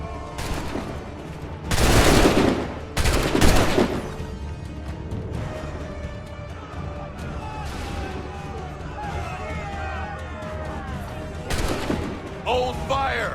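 Massed musket volleys from soldiers in Assassin's Creed 3 crack out as loud broadband bursts around two and three-and-a-half seconds, then again near twelve seconds, with shouted orders and ambient battle noise between them.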